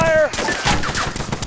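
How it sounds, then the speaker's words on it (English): Enemy gunfire in the Arma 3 video game, a loud, close burst of rapid shots with sharp cracks over a dense, noisy game soundscape, one short tonal whine at the start. "Enemy fire!"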